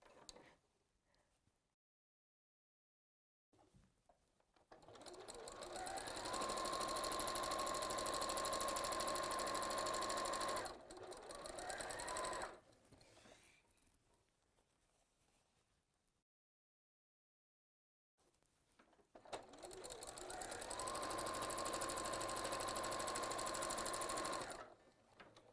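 A domestic sewing machine stitches twisted quilt strips in two steady, whirring runs of several seconds each, separated by near silence. The motor hums evenly close to the microphone.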